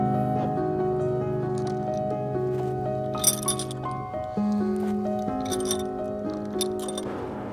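Metal rigging fitting being screwed down onto a wire cone, bright clinks and scraping metallic taps close by over a steady droning tonal background hum.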